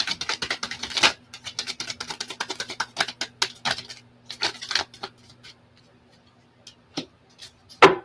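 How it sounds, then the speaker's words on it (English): Tarot cards being shuffled by hand, quick crisp riffling bursts of card flicks in rapid clusters, close and dry, trailing off into a few isolated taps near the end, with no talk. "Last shuffle."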